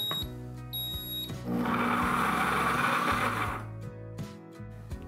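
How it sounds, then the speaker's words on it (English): A Pampered Chef Deluxe Cooking Blender whirs loudly for a couple of seconds making strawberry jam, then winds down, followed by a few short electronic beeps. "The blender is beeped and it's telling us to add"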